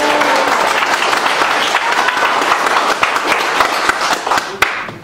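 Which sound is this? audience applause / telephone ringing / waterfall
audience applause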